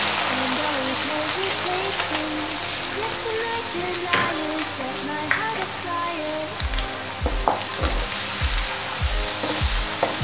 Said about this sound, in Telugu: మనం ఇప్పుడు ఇదే ఆయిల్లో అల్లం వెల్లుల్లి పేస్ట్ వేసుకొని పచ్చి వాసన పోయే వరకు వేయిస్తుంది.